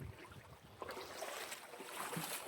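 Footsteps splash and slosh through shallow creek water in Aravaipa Canyon, with irregular wading splashes and trickling flow, close to the microphone and fairly quiet.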